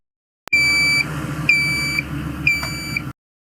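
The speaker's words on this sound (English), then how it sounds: "The beeping sound indicates that there's something going on with the leveling jacks." Repeated electronic warning beeps from an RV's hydraulic leveling jack system signalling a fault: three sustained high-pitched tones about a second apart, each sliding slightly in pitch, loud and close over a low background hum.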